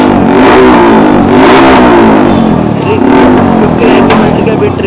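A second-hand motorcycle at a used bike market in Karol Bagh is close and loud as the engine runs and revs repeatedly, the pitch climbing and falling in several bursts, with a voice speaking over it.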